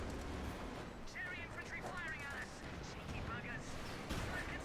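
Artillery barrage in Company of Heroes 2, with heavy rumbling blasts under a constant dense layer of battle noise while a commentator talks over the top.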